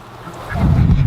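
Ducks calling close by, a burst of honking quacks that swells and holds loud through the second half after a quieter start.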